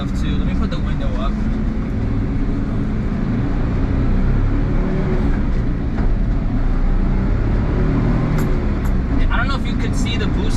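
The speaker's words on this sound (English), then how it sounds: "So I'm just gonna drive straight on like a residential road right now." Suzuki Jimny JA11 small 4x4 driving along a residential road in New York City, with a steady close engine and road rumble throughout and faint traffic noise, no one talking over it.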